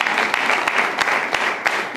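A church congregation claps during a Sunday service, with dense, continuous applause from many hands heard close and loud.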